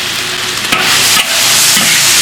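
Pig heart tossed with chopped chili in a large wok, a loud, continuous hiss of sizzling over high heat, punctuated by a couple of sharp scraping stirs of the spatula.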